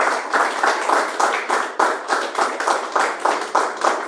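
A church congregation claps their hands for Jesus in a steady, rhythmic beat of many hands together, loud and close, with the even pattern continuing without a break.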